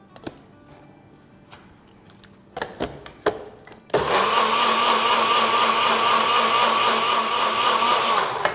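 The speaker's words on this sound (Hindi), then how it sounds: "इसको ब्लेंड करेंगे।" An electric blender whirs loudly and steadily as it blends a lemon drink of infused lemon zest and a cup of water, starting abruptly after a few clicks and clatters of the jar being set in place.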